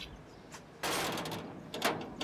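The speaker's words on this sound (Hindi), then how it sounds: "आप दरवाजा खोल रही हैं" A door is opened in a domestic drama scene, giving a sudden rattling slide with a brief clatter near the end, close and moderately loud with no speech.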